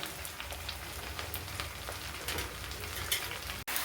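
Vegetables fry in fish oil for a Malabar spinach dish, a close, steady crackling sizzle with scattered pops and occasional stirring, ending in a sharp clack.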